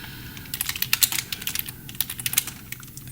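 Quick, uneven typing on a computer keyboard, with close, crisp key clicks arriving in bursts and short pauses, and no voices.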